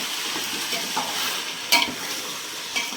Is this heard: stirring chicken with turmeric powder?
yes